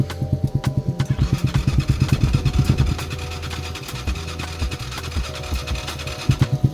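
A Lifan motorcycle engine with an FCR carburetor cranks over in a fast pulsing chatter, then catches and runs with a loud, lumpy idle and mechanical clatter, the rhythmic firing returning strongly near the end.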